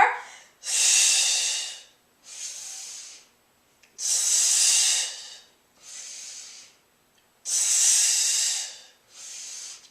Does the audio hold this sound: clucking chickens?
no